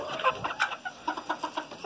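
Chickens and a crested, feather-footed rooster clucking in a mixed flock, a steady run of short, close clucks and calls with no talk.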